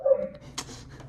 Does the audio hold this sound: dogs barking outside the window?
yes